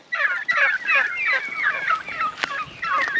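A flock of young turkeys gobbles continuously up close, overlapping warbling calls with a couple of sharp clicks in between.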